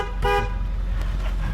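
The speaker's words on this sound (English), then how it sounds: "Give him a little honk." A single short car horn honk from a Dodge Charger, sounding close and clear over a low idling engine rumble.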